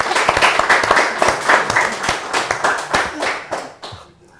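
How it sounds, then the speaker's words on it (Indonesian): An audience applauds Asep Kambali at a talk event on Indonesian history, dense loud clapping that continues steadily and then fades out near the end. "Mari kita beri tepuk tangan yang meriah kepada Asep Kambali."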